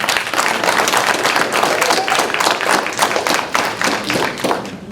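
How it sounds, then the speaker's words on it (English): An audience claps at a Habitat for Humanity Sneaker Ball fundraiser, a dense, loud burst of applause sustained for several seconds before tapering slightly. "Did you just clap for that?"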